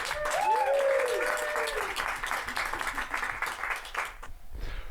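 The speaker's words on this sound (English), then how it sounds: "All right, a big round of applause for Connor." Applause from an improv comedy audience for a player, a dense wash of clapping that fades off near the end, with a brief voice heard early on over it.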